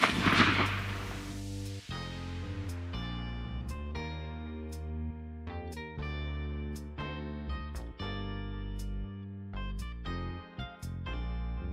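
A loud gunshot fired at a target opens the clip, followed by a long stretch of ringing tonal sound with sharp clicks and knocks scattered through it.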